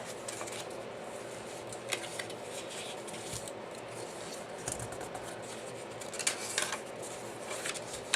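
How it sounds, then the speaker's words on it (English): Scored card stock is folded into a gift card holder, giving soft papery rubs, creases and light taps at close range. The handling sounds are faint and scattered across a quiet room. "I want the red and green image on the outside, so I'm going to fold my score lines inward"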